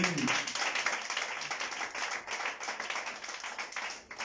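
A church congregation at a prayer service claps vigorously and continuously in a fast, steady rhythm, filling the room for several seconds, with faint voices mixed beneath.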